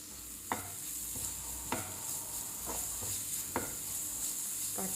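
Mushroom masala with blended tomato stirred in a pan, a soft continuous sizzle broken by a few sharp spoon scrapes against the metal at roughly one-second intervals, close and steady with no voices.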